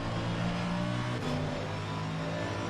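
Ferrari GT race car in Assetto Corsa Competizione at Spa, the engine revving and accelerating with a loud, steady buzzing drone and a pitch shift midway, heard on its own.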